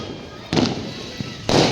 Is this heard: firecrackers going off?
yes